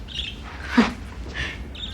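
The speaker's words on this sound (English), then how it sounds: "They're lovely birds, Miss Edwards" A pair of pet birds give a few short, faint chirps with quiet pauses between them, in a calm indoor room with no one speaking.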